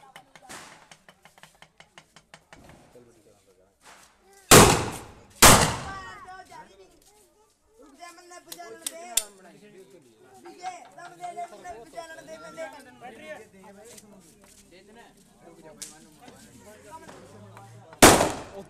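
Diwali firecrackers burst in a village, two loud sharp bangs close together then another near the end, among smaller pops and crackles, with people chattering throughout.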